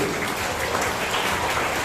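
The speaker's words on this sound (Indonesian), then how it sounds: "Tepuk tangan untuk santri." Applause for students at an Islamic boarding school gathering, a dense steady wash of many hands clapping throughout, loud and continuous with no voices over it.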